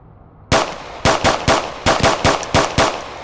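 Sharp virtual pistol gunshots ring out in a VR game on an Oculus Rift, about ten loud, close shots fired in quick irregular succession after a short quiet start.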